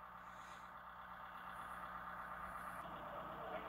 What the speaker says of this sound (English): Tractor is being pulled out by the backhoe.